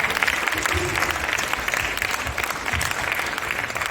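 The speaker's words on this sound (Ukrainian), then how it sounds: "Ваш оплески комбат Маруся." An audience at a reading event in Pervomaisk breaks into a sustained round of applause, dense and even throughout, filling the room.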